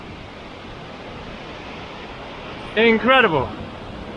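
Steady broadband rush of a waterfall in Japan fills the whole stretch at a constant level, with someone briefly speaking near the end over the continuous roar.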